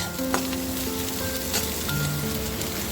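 Chopped carrots, beans, corn and capsicum sizzle steadily in a hot pan while being lightly stirred for an oats pulao. The frying is close and constant, with faint utensil scrapes and no speech.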